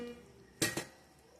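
Pots and utensils clatter in a home kitchen while tarka is cooked, giving two quick close metallic clanks, the second softer, over a quiet background.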